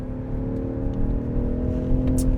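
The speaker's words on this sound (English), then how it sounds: "That inline 6 sounds pretty nice." The inline-six engine of a 2025 Range Rover Sport hums and revs with a smooth, steady drone that climbs slightly, heard from inside or close to the vehicle.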